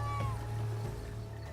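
A cat's meow or a peacock's call rings out briefly in the Witcher 3 Blood and Wine open world, a short high cry over a steady low ambient hum of the game's environment.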